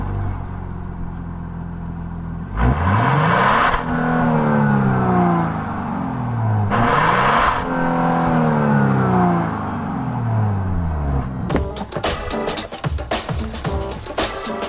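A Genesis GV70 luxury SUV revs its engine twice in short loud bursts, each swelling and falling away through the exhaust, followed by a rougher stretch of clattering engine noise close to the microphone.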